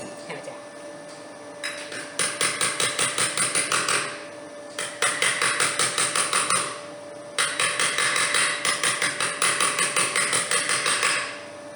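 Quick, ringing hammer blows on metal while shaping a bow for a Studebaker come in three long runs separated by brief pauses, loud and close.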